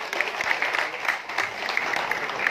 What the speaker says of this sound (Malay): beri tepukan huruf pada Datuk Seri.